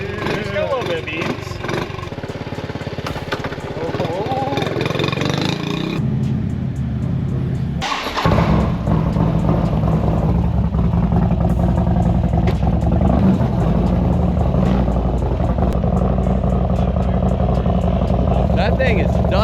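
A custom build motorcycle engine that idles roughly cranks and fires, then settles into a loud, steady running roar close by, with voices talking over it.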